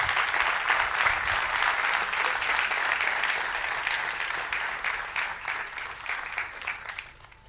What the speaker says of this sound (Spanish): Denle un fuerte aplauso a ellos.